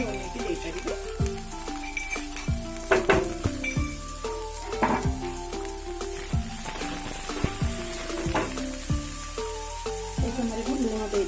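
Onion with ginger-garlic paste frying in a pan, a moderate sizzle with stirring clinks and scrapes, heard under a person speaking.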